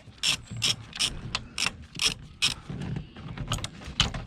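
A ratchet works loose a torque strut mount bolt on a 2013–2018 Nissan Altima with the 2.5L QR25DE engine, clicking in about a dozen short, evenly spaced bursts, close and alone.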